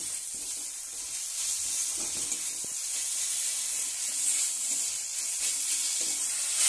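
Spices with turmeric and chili powder sauté in a hot pan with a steady, close hissing sizzle, with occasional soft stirring scrapes and no talking.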